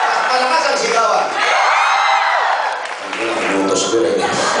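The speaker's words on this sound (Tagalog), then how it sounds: "palakpakan natin yung ating magagaling na host" A comedy club crowd at Zirkoh Greenhills applauds and cheers loudly for the hosts, with whoops and shouting over continuous clapping that dips briefly before swelling again.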